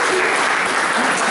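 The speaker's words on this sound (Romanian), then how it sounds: "haideți să-l aplaudăm pe profesor" Dense crowd applause at a school forum-theatre performance in a technical high school in Buftea, a loud, continuous burst of many hands clapping close by, brief and without audible talk.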